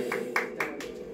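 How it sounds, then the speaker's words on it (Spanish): Sparse hand claps from a small audience applauding mariachi singers at a Women's Day performance, three or four distinct, fairly close claps over a low steady hum. "El aplauso bien bonito para ustedes"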